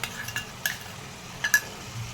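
A spoon stirs masala paste of ground peanuts and spices into a mushroom curry, giving a few soft wet scrapes and light clinks against the pot over a faint simmer.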